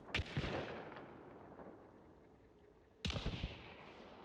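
Two bursts of a video game shotgun firing custom ammo shells that burst like fireworks, each a sharp loud crack followed by a crackling, fizzing tail that slowly fades.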